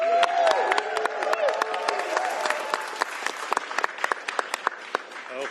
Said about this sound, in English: Give a round of applause to Speaker Jenkins for her leadership.